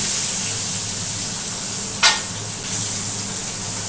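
A fish head fries in hot oil in a home kitchen, giving a continuous soft sizzle with one short sharp crackle midway.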